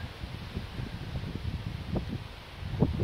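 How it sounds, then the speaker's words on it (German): Gusty wind blowing outdoors in open countryside, a fairly faint low rumbling rush that swells in uneven puffs, with no voices. "Hier hat es jetzt richtig ein bisschen mehr Wind"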